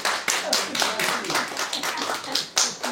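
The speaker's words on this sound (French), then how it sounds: "Si vous pouviez l'applaudir un petit peu, ce serait gentil" An audience claps at a cheerful French show, with uneven, fairly close clapping spread across the whole moment and some voices mixed in.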